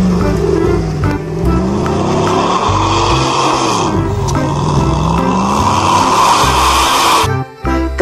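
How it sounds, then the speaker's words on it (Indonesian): A toy Jeep Hummer makes a loud, continuous engine sound with rising and falling revving whines for several seconds, then cuts off near the end. "Yang ini ada mobil Jeep Hummer."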